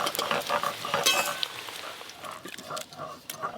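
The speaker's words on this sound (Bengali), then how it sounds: "বাকি কোফতাগুলো একই রকম ভাবে ভেজে নেব।" Shola kochu (taro) koftas frying in a pan, giving a steady soft sizzle with occasional utensil clinks and stirring scrapes throughout, close and moderately quiet, with no talk.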